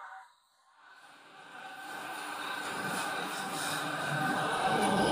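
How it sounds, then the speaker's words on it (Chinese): A train pulls into a station in China, its rumble building from quiet to a loud, steady roar of wheels and rolling stock close by, with no voices. "前方又有一趟车即将进站了，哇，马上到站了，这个速度还挺快的啊。"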